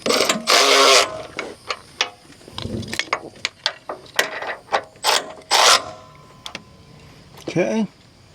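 A hand ratchet tightening bolts on rock slider steps mounted to a Jeep Gladiator, heard as close bursts of rapid clicking with pauses between strokes and some metallic rubbing.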